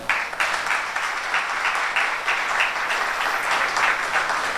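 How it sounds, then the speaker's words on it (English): An audience at a youth scouting awards ceremony in a city hall claps steadily, a moderately loud, even patter of many hands that carries on throughout. "Hold your applause, it does not end there."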